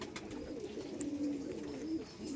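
A Madras pigeon, an old 1900s line kept at a home loft, coos in a steady low rolling call that rises and dips, held close and continuous with faint background noise.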